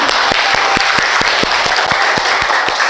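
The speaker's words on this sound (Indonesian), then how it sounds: "Nah, bagus, tepuk tangan semuanya." A classroom of students applauding after a classmate recites a Quran surah, with a broad bed of clapping and several sharp, loud individual claps standing out close by in an irregular rhythm.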